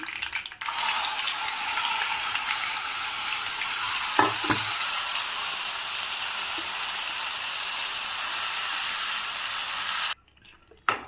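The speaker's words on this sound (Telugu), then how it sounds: "ఇందులోకి మనం పట్టి పెట్టుకున్న మసాలా వేసుకుందాము" Ground masala paste hits a pan of hot oil with spluttered tempering seeds for a stuffed brinjal curry, giving a loud, steady sizzle that runs for about ten seconds, broken by a couple of clinks, then cuts off.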